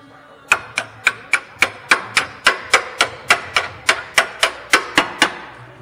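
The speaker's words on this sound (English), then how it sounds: "Let's grab our hammer." A hammer strikes repeatedly in a steady, even rhythm, about seventeen sharp, close blows in a row, while replacing lower control arms on a second-generation Ford Escape or Mercury Mariner.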